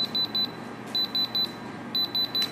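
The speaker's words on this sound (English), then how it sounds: "So it's beeping at us because we're at 155 degrees, telling us to remove it from the heat" A Typer digital meat thermometer sounds its alert while burgers cook, giving short, clear electronic beeps in three bursts of about four quick beeps each, close and steady over a soft background hum.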